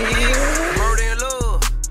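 A car accelerates with loud, sustained tire squeals that rise in pitch, used as a sound effect laid over a rap song's beat with its pulsing bass hits.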